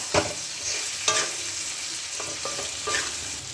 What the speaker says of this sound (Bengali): এবার ভালো করে এগুলোকে আমি মিক্স করে নেব।